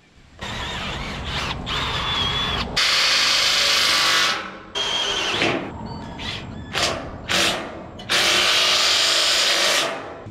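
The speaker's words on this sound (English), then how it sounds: "So I'm gonna get the drill back out and start popping some more holes." Power drill boring holes into steel trailer beams during a custom trailer build, with several loud bursts of high-speed whirring separated by short pauses and clattering handling noise.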